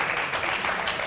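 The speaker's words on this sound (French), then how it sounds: "applaudissez pour vous un peu" Studio audience at a French game show breaking into applause, dense continuous clapping at close range for about a second, loud and unbroken.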